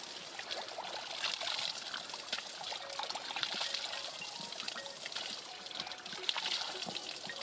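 Water trickles and splashes steadily outdoors in a Rudraprayag village, a continuous bright, fairly faint flow with small irregular spatters and no talk.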